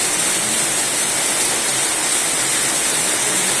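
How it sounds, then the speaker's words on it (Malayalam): Heavy monsoon rain pours down in Palakkad, Kerala, making a loud, dense, unbroken roar with no gaps and no voices. "മഴ തിമർത്ത് പെയ്യാണ് ഇവിടെ പാലക്കാട്"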